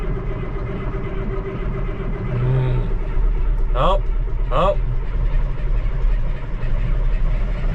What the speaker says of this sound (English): if this tractor will start.